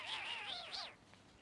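A cat gives one drawn-out, wavering meow that rises and falls in pitch, fairly close and clear, then fades into quiet room tone.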